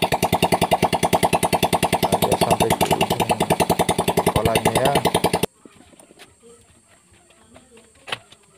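A Honda Revo motorcycle engine runs with no exhaust fitted, giving a loud, rapid, harsh mechanical chatter for about five seconds before it cuts off. Someone speaks briefly over it, then only faint clicks and handling noises remain.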